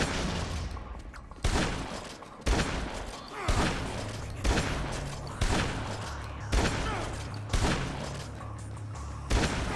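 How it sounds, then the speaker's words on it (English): Gunfire aimed at the player in Dead Rising 2, a sustained fusillade of shots with heavy thumping impacts recurring about every second over a dense, loud background of game noise. "Stop shooting me."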